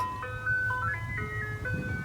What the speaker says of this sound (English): Check out the ice cream truck.